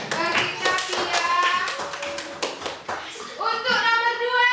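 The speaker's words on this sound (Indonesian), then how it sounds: "tepuk tangan untuk teman kita Pia." Schoolchildren in a classroom clap together for a classmate who answered correctly, a lively burst of hand claps mixed with children's voices and chatter.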